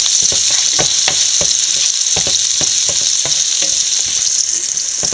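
Boiled jackfruit seeds and onions are sautéed in a pan. A loud, steady sizzle carries sharp, irregular clicks and pops as the pieces are stirred and spatter, with no speech.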